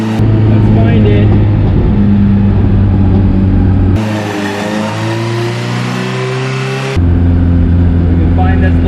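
A cheap Honda Civic's engine drones steadily while driving, its pitch shifting through a stretch of acceleration before settling back, loud and close throughout.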